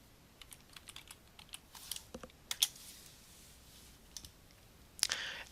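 Fingers type a search query on a computer keyboard, giving scattered quiet key clicks in short bursts with a few louder taps, close and alone with no talking.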